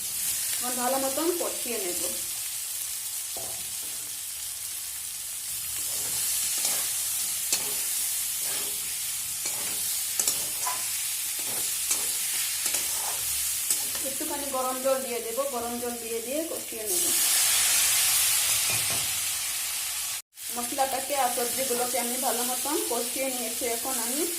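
Cauliflower, potato and soybean frying in spiced oil, loud close sizzling with stirring scrapes, a burst of hissing steam partway through, and a voice speaking over it at intervals.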